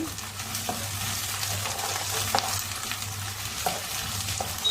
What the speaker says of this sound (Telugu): ఇది ఇలా కొద్దిగా వేగాక కొద్దిగా పచ్చివాసన పోయే వరకు మనము వేయించుకునేసి